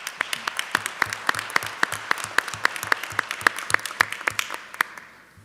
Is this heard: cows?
no